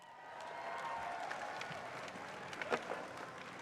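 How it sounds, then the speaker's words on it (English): A crowd at a women's skateboard park contest applauds the winners, faint and distant, a steady wash of clapping and cheering with a few louder bursts. "big round of applause for Poppy Olson"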